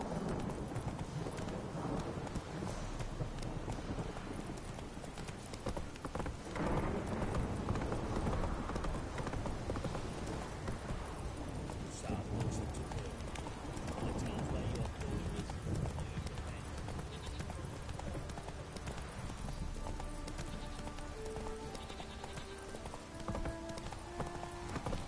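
In the video game The Witcher 3, horse hooves gallop in a continuous rapid clip-clop, with a neigh now and then, under game music and some voice.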